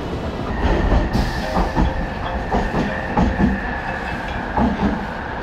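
A New York subway train rides along with a steady rumble and a rhythmic clickety-clack of wheels over rail joints, close and continuous with no talking.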